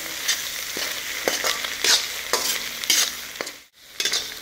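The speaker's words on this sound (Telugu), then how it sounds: "ఇందులో మనం సరిపడా కారం వేసుకున్నాము. దీన్ని మంచిగా పొడి పొడి అయ్యేటట్టు కలుపుకోవాలి." Egg fried rice with chili powder is tossed and stirred in a hot pan: a loud, close sizzle with repeated scraping strokes of the spatula, briefly dipping to near silence before the stirring resumes.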